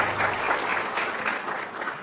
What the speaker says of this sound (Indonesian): Tepuk tangan dong buat semua hamba Tuhan.